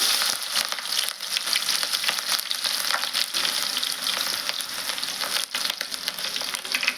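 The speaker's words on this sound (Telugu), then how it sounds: "ఆయిల్ అయితే హీట్ అయింది కదా, నేను ఉల్లిగడ్డ ముక్కలు వేస్తున్నాను" Onion pieces hit heated oil for a ridge gourd and egg curry, producing a loud, continuous close-up sizzle dotted with crackling pops.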